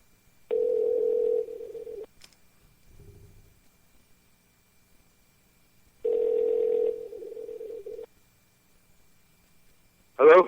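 Phone ringback tone heard while calling someone back: two long tone bursts about four seconds apart, each with a steady pulse, a brief low murmur between them and a short click at the end, no talk.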